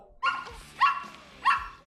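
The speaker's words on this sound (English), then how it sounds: "God, I hate that dog." A dog barks three times in sharp, separate bursts, fairly close and clear with no talking over it.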